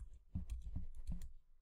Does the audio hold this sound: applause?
no